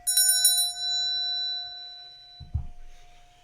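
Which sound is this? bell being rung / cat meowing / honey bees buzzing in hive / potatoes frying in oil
bell being rung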